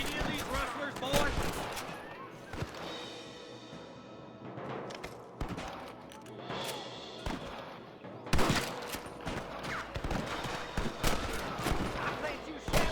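Gunfire rings out during a shootout with rustlers in Red Dead Redemption: repeated sharp rifle and pistol cracks, some in quick clusters, scattered across the scene with game voices talking in between.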